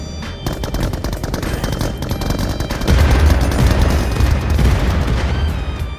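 Rapid bursts of automatic gunfire fill a BGMI battle-royale game, loud and dense, with heavier booms coming in halfway through. No one talks.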